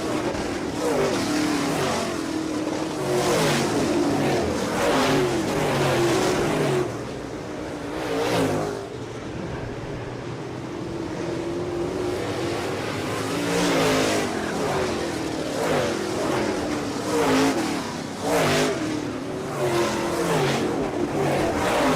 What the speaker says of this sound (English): 35 laps complete. 15 to go here for the Modified Mafia Tour.